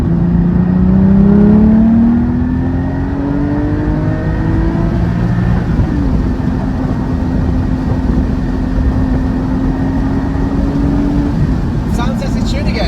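A Porsche 718 GT4 with a Cargraphic X-pipe racing exhaust revs up and falls through the gears while driving, its engine tone sliding and droning loudly, then settling into a steady hum under speech.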